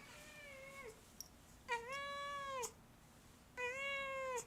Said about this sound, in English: you can hear my cat